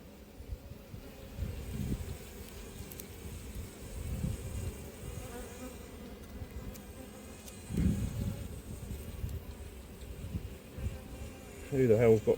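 Honeybees hum in a steady, close drone from an opened apiary hive as frames of brood and pollen are inspected, with louder swells of buzzing now and then.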